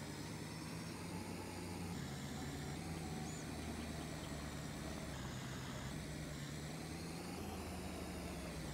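A plowing tractor's engine in Farming Simulator runs at a steady, continuous drone with a faint low vibration and an even, unchanging level throughout, with no talking.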